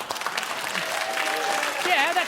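Studio audience applause at a comedy show, a steady wash of clapping filling the short stretch, with a voice talking over it.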